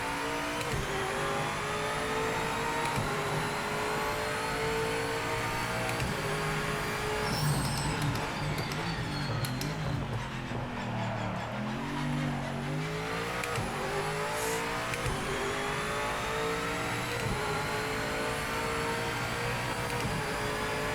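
A BMW GTE race car engine in the racing game Project Motor Racing at Spa-Francorchamps, held at high revs in a continuous loud whine that dips and climbs through gear changes, with no talking.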